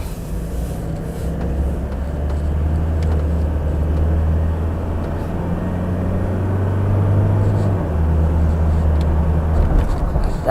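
A Toyota Hilux Revo 2.4-litre pickup with a six-speed automatic accelerates on the road, its steady low engine drone rising in pitch and then easing as it shifts, loud and continuous inside the cab.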